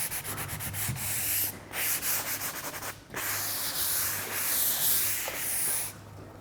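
Sandpaper rubbed back and forth over a furniture surface to knock down its sheen before painting, a steady close scratchy rasp with brief pauses and no talk.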